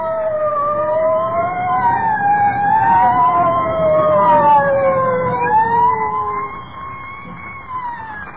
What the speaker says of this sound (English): I don't like the sound of them sirens.